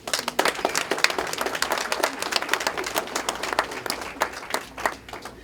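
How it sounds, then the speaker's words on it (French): An audience at a solidarity event applauds warmly, a dense patter of many hands with distinct individual claps standing out, sustained throughout. "Je vous prie de les applaudir chaudement"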